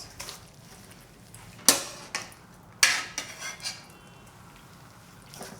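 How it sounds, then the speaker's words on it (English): A metal skimmer clanks against a pot while lifting oxtail out of Korean oxtail soup, giving a few sharp metallic knocks in close succession, then a softer clink, over quiet kitchen background. "I'll use my skimmer and take it out."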